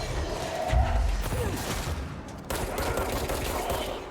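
Rapid bursts of gunfire from the video game Control, a dense, loud fusillade of shots and thumps filling the whole stretch with no break.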